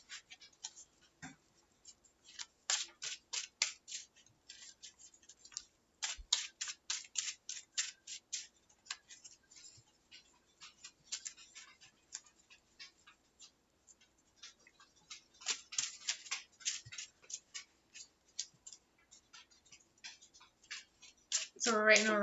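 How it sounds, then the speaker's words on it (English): Pokémon trading cards being shuffled during a competitive match, with bursts of crisp riffling and flicking in clustered runs, close and fairly quiet, spread across the span with short pauses between shuffles. "So we're waiting on Rodney to be content shuffling because he got a mulligan"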